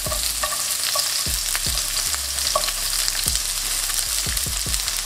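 Sliced onions fry in about two tablespoons of oil over medium heat with a constant sizzle, while a utensil scrapes and stirs through them in repeated strokes.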